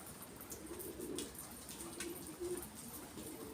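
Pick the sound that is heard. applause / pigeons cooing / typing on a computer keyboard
pigeons cooing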